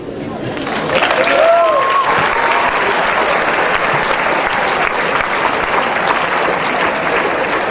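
Audience applause fills a high school assembly, a dense, steady wash of clapping that swells after the first second and holds loud throughout, with a few faint whoops or voices rising briefly near the start.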